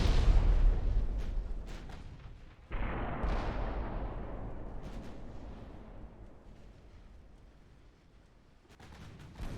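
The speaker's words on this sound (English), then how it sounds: "The main guns on Black Prince." Main guns of the battleship Black Prince firing in the naval game Ultimate Admiral Dreadnoughts: a heavy, loud opening boom, a second big blast near the three-second mark, then long rumbling decay with a few sharp crackles and a late burst.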